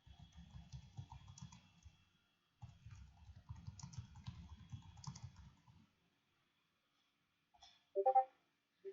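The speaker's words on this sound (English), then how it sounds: "I'm just typing it now." Fingers type on a computer keyboard in two quick clattering runs of soft key taps, quiet and close, separated by a pause, followed by a couple of sharper clicks.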